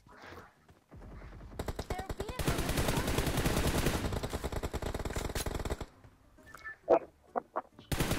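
Rapid automatic gunfire from PUBG Mobile, loud and dense bursts for several seconds, then a few sharper single shots, with brief voices near the start.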